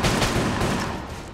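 A brief, dense barrage of shots in the dungeon shooter Enter the Gungeon, loud and continuous like a blurred fusillade with no gaps and no voices.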